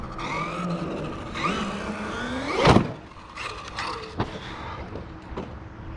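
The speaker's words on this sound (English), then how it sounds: "Those are like half throttle blips," Traxxas Maxx V2 RC truck on 5S with a Hobbywing Max 8 2200kv motor, revving in half-throttle blips with rising whines and tire scrabble, close and loud.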